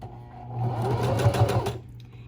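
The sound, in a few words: sewing machine stitching a fabric face mask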